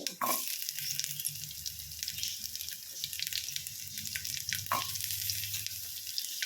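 Chopped carrot, potato, brinjal, tomato, green chili and curry leaves hit hot oil for sambar with a strong, steady sizzle and crackle, loud and close, with a couple of sharp clinks as pieces drop in.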